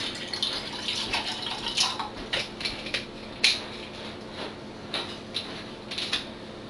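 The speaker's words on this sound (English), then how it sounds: "And so I'll just continue pouring here." Bottled drinking water is poured into a container in short, quiet bursts of splashing and trickling, with small clinks in between.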